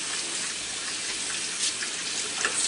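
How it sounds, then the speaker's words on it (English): Water streams steadily from a tap during handwashing, a continuous bright hiss with small splashy flickers near the end, heard alone. "Wash my hands."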